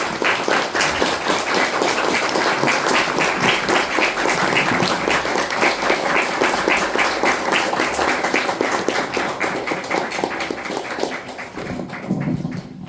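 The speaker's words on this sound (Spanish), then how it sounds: "¿Verdad que el aplauso fue genuino, fue de corazón?" An audience claps steadily at a book presentation, a dense sustained round of applause that tapers off near the end.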